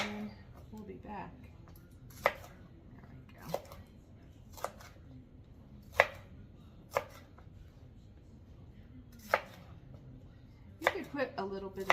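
Ingredients for turkey chili chopped on a cutting board, a knife landing in about a dozen sharp, separate thuds at uneven intervals, close by over a low murmur of room noise and a voice speaking.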